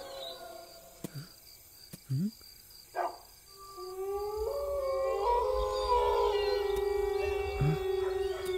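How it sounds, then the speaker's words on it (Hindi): Stray street dogs at night give several short barks and yelps in the first seconds, then a long drawn-out howl rises and holds, moderately close against a faint background hum. "गली के आवारा कुत्ते भौंक रहे हैं"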